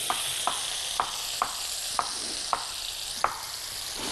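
Onions for Dawood Basha sauce cooking in a pan over the fire, a continuous close sizzle punctuated by regular spoon taps against the pan about every half second.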